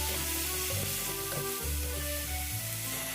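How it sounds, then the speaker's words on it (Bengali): Vetki fish curry with ripe tomato, salt and turmeric being stirred in a pan over steady oil sizzling, with scraping and clattering stirring noises coming in bursts close by. "দিয়ে দেবো পাকা টমেটো, দিয়ে দেবো লবণ, দিয়ে দেবো হলুদ, দিয়ে এটাকে নাড়াবো।"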